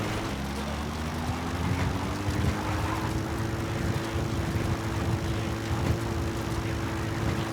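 A support helicopter in the video game Metal Gear Solid V approaches with a steady, droning rotor and engine hum and a slowly rising whine, heard alone and moderately loud throughout.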